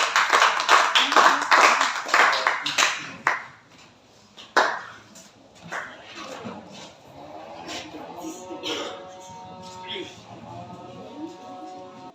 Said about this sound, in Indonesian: beri aplaus dulu untuk kelompok 2